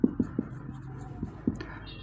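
Chalk or marker writing out a set-theory maths solution on a board, several short taps and strokes close by, with a faint low voice beneath them.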